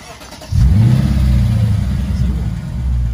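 A car engine cranks and catches about half a second in, then revs briefly and settles into a steady, loud idle close by.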